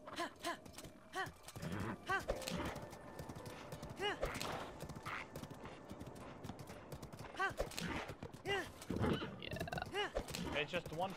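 Ancient Horse Gear steed from Zelda Breath of the Wild trots with a steady clip-clop of hooves and occasional whinnies, mixed with game sounds while a person talks over it.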